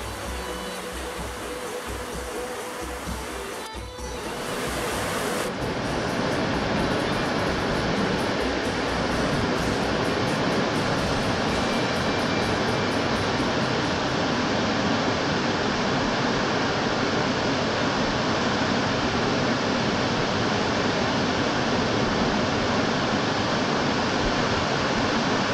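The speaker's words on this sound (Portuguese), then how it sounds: "Cachoeira da Fazenda das Areias." Cachoeira da Fazenda das Areias, an imposing waterfall near Pirapetinga de Bom Jesus, roars as a steady, loud, broadband rush that swells after the first few seconds and then holds constant with no voices.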